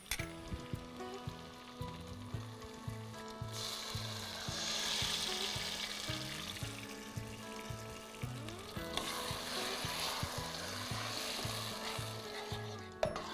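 Pureed tomatoes sizzling and frying steadily in a pan for an Indian-style shepherd's pie, a continuous close hiss with light stirring, no voices.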